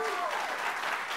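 Studio audience applause on a TV show, a short burst of dense, steady clapping with faint voices mixed in.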